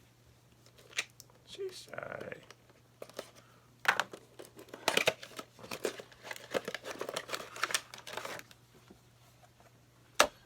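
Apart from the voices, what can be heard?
cutting open action figure packaging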